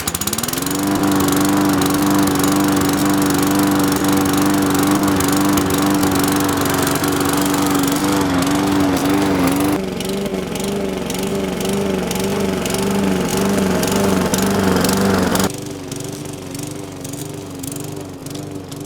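A lawn mower engine runs loud and close for nearly twenty seconds, its buzzing drone shifting pitch and dropping in level twice as the throttle changes.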